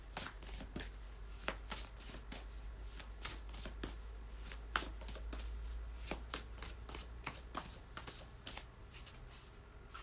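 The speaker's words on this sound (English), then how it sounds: "So we give them a good shuffle duffle here." Oracle cards are shuffled by hand in a steady run of crisp, papery riffles and slaps, close and fairly quiet against a low hum, with no talking.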